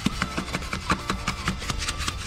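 A trowel tamping and working wet, sandy concrete for a lawn mowstrip, a quick series of close gritty scrapes and soft pats in an even back-and-forth rhythm.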